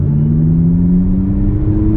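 A 2023 Abarth 500e electric car accelerates from a junction on a UK road, its synthetic engine sound a loud, steady droning rumble rising gradually in pitch, close inside the cabin, no talk.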